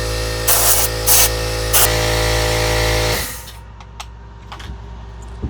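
A loud compressed-air nozzle blasts parts clean during a Kraton 6S RC car rebuild, with several strong hissing bursts over a constant hum that cut off abruptly after about three seconds, leaving faint clicks.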